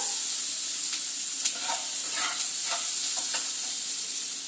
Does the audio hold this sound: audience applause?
no